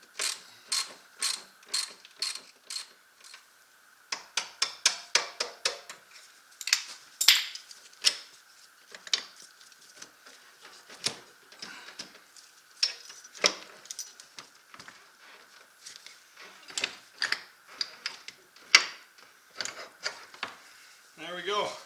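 A ratchet wrench with a 15 mm socket loosens the shock bolt on a Can-Am Outlander ATV, giving rapid bursts of metallic clicking in uneven runs, close and fairly clear, with short pauses between strokes.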